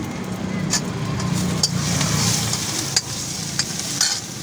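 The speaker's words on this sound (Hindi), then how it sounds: "उसके बाद ये बॉल को डालेंगे इसमें, बॉल डालेंगे।" Golden rice stir-fried with Manchurian balls in a pan over a street stall fire, with a steady sizzle punctuated by repeated sharp scraping and clanking strokes of the spatula, with vehicle rumble in the background.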